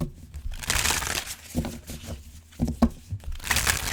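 Tarot cards are shuffled by hand in a clumsy, uneven way, making bursts of papery riffling, crinkling and slapping at close range, loud and irregular, with no voice heard.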